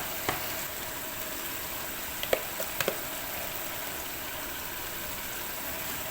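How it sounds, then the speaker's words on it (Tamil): Curd goes into tomatoes and onions frying in oil for a large batch of chicken biryani. A steady, low sizzle runs throughout, with a few faint clicks from a spoon. "அடுத்தது நம்ம எடுத்து வச்சுருக்கிற தயிரை சேர்த்துடலாம்."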